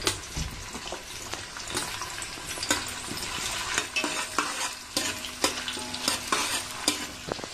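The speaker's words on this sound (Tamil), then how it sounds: "இதுக்கு உப்பு போட்டு வெங்காயத்தை வதக்குறேன்" Onions and green chillies sautéing with salt in a pan for biryani, a steady sizzle broken by repeated scraping stirs and clanks of the spoon, close and fairly loud throughout, with no talking.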